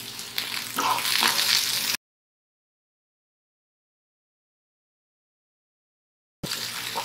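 Capsicum sizzles in a frying pan while chicken maqluba is prepared, a steady crackling fry that is heard briefly, cuts to silence for several seconds, then resumes.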